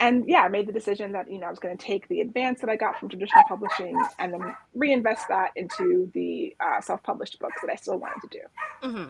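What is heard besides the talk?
dog barking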